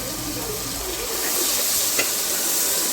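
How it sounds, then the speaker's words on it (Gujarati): Green chillies dropped into hot oil with asafoetida and turmeric for a khichdi tempering, a loud broad sizzle with a brief clink, close and continuous. "હવે આ મરચાં નાખી દે પહેલાં ચમચો લઈ લે ચમચાથી મરચાં નાખી દે"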